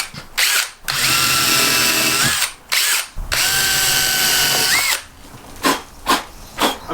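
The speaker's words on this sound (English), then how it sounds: "Pre-drilling for the emblem." A power drill whirs in several bursts, pre-drilling pilot holes for an emblem on a truck camper, long high-pitched runs followed by short quick pulses, close by and loud.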